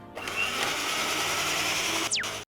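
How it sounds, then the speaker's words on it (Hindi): A stand mixer whirs steadily while blending peanut butter and coconut oil, a loud close motor drone that dips briefly near the end and then cuts off. "अब हमें इसे अपने स्टैंड मिक्सर में फिक्स करना है और मशीन चला के मिक्स कर देना"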